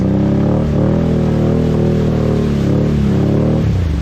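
A 2021 Honda Rubicon 520 ATV engine runs loud and close at a low, steady throttle, its pitch wavering slightly before it drops off near the end.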